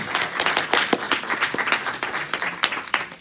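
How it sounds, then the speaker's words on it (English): An audience at a student election candidate debate gives a round of applause, many hands clapping in a lively, uneven patter with sharper individual claps standing out, close and fairly loud with no voices on top. "I want to give another round of applause for Spartan Daily for coming out this evening."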